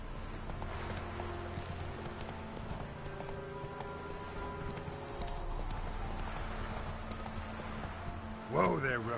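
Roach, a horse in The Witcher 3, gallops with fast rhythmic clip-clop hoofbeats under steady game ambience, ending in a short whinny near the close.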